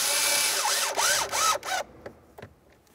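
A power drill drives mounting screws into the ignition switch panel of a 2004-2006 Scion xB, whirring loudly in close rising and falling bursts before stopping, followed by a few faint clicks.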